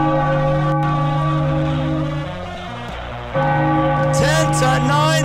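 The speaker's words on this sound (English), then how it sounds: "Ring the bell, the Philadelphia Phillies win." A celebratory bell rings out after a Philadelphia Phillies win over the Toronto Blue Jays at the Rogers Centre, loud sustained tones over a steady drone, with a higher ringing burst near the end.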